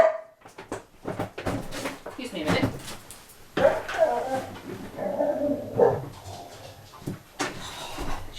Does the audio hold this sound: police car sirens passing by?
no